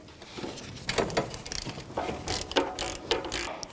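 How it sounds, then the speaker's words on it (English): A ratchet with a 14mm socket clicks in quick, close bursts while loosening the alternator mounting bolts on a 2006–2012 Toyota RAV4, with several short runs of sharp clicks separated by brief pauses. "we're going to take off the 2 mounting bolts for the alternator. 14mm for the long one, 14mm socket."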